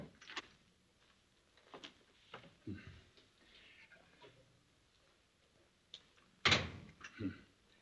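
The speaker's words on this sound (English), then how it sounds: "Monsieur, I shall have to ask you to open the door." An indoor door opens with a few soft knocks and creaks, then a louder clunk of the latch or door swinging near the end.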